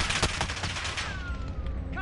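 Rapid gunfire from a video game shooter, a dense burst of loud overlapping shots crackling through the whole stretch, with faint game sounds underneath.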